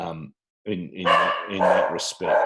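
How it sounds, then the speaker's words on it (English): A dog barks repeatedly nearby, loud clustered barks stacking up over a brief gap, with a person speaking at the start. "that's my dog possibly barking at no one"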